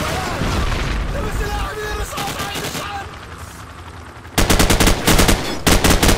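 Rapid bursts of automatic gunfire in Call of Duty: Modern Warfare crackle loudly, with sharp staccato volleys near the end, under someone talking.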